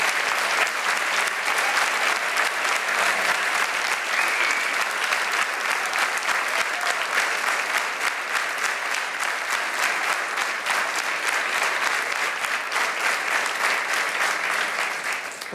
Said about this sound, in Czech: to nejdelší potlesk, jaký tady kdy byl